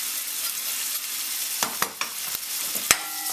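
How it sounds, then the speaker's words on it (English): Sliced onion and finely chopped garlic sizzle steadily in a hot pan over medium-high heat, a constant close hiss broken by a few sharp clicks and scrapes of stirring, with no talking. "medium high heat, and we're gonna go in with some sliced onion."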